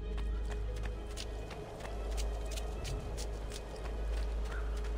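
Horse hooves clip-clop steadily in Assassin's Creed 2, a regular walking rhythm of sharp repeated knocks over a constant low game ambience, with no one talking.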